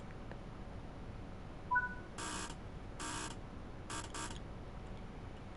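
Train cab buzzer in Train Sim World 5 on the Midland Mainline, sounding as three short electronic buzzes with a quick doubled pulse at the end, fairly faint over a low cab hum.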